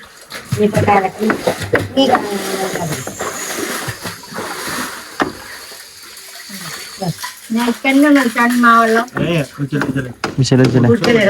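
Water is drawn and poured at a house construction site, splashing in bursts while people talk loudly over it, close by.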